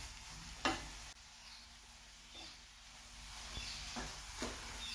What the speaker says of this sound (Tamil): தேங்காவோடு சேர்ந்து நல்லா இந்த வெள்ளைப்பாகு அப்படியே கெட்டியாக வர வரைக்கும் கிண்டிகிட்டே இருக்க வேண்டியதான்